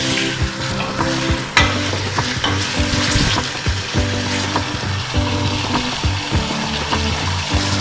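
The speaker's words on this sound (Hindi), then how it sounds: "ऑयल गर्म हो चुका है, अब हम इसमें गोश्त को डाल देते हैं। गोश्त को हम इसका कलर चेंज होने तक भून लेंगे।" Beef pieces for nihari fry in hot oil, giving a loud, steady sizzle throughout with occasional scraping and clanks of stirring close by.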